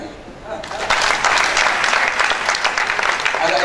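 An audience claps for Faraja at an architects colloquium, with the sound rising after a quiet start into a loud, sustained round of crowd applause.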